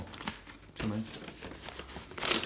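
Grey paper wrapping crinkles and rustles in short uneven bursts as a parcel is opened by hand. The sound is close and fairly quiet, with a brief louder crumple near the end.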